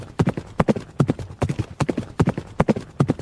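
A horse's hooves clatter in a fast, steady galloping rhythm, loud and close, with repeated sharp impacts and no voices.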